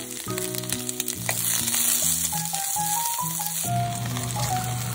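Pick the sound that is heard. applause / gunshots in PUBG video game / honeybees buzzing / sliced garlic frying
sliced garlic frying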